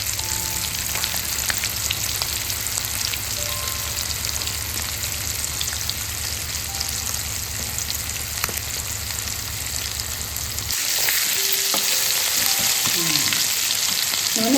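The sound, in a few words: chicken leg pieces frying in oil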